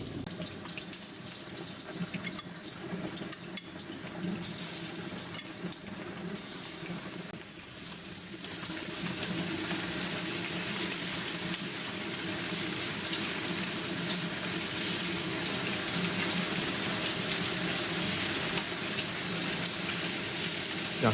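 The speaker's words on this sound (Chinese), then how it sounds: "接着我们把鸡肉放下锅来煎哦" Chicken pieces fry skin-side down in a pan, rendering their fat, a continuous broad sizzle that swells louder partway through and holds steady to the end.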